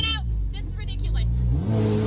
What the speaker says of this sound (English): You cannot just be driving this loud car in this neighborhood at all hours.